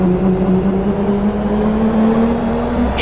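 A car engine in a driving simulation game holds a steady, close, synthetic drone whose pitch drifts slightly as the revs shift, running continuously with no talk.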